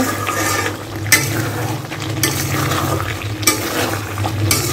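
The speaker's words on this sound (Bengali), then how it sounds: "এখানে হলো মাথার মাংস ভুনা করা হচ্ছে।" Head meat fries and is stirred in a pan for bhuna, with a continuous loud sizzle and periodic sharp scrapes of the spoon against the pan.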